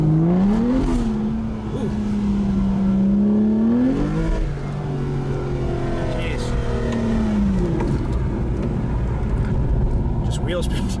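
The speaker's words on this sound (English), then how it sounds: "Just wheel spin. First gear is completely useless in this car." An Aston Martin Rapide accelerating hard in first gear with wheel spin, the engine revving up and down in rising and falling sweeps, loud and close, with a person exclaiming over it.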